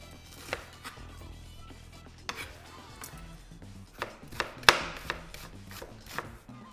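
An onion is sliced with a Global knife against a board, giving irregular knocks and soft scraping cuts that speed up toward the end, close by without speech.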